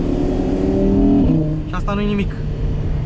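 An Audi R8 V10 Performance quattro Spyder's engine idles and rises briefly in a short rev, heard through a lowered window, with someone talking over it throughout.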